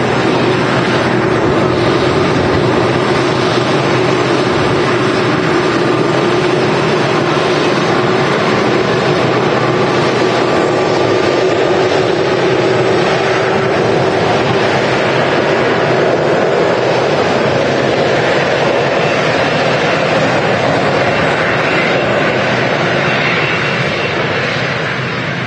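A Boeing 747 airliner lands at Manchester Airport in choppy, gusty conditions, its jet engines giving a steady, loud broadband roar that holds unbroken throughout, blended with wind noise and no talking.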